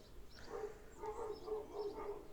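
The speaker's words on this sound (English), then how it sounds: "I'm sorry for the barking you can hear." Several dogs barking in the distance, a steady run of muffled barks repeating through the whole stretch.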